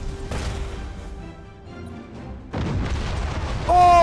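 Torpedo explosions in the space strategy game Battlefleet Gothic Armada II: a low rumbling blast opens the clip, a heavier burst follows midway, and a bright tonal impact rings out at the end, all without talk.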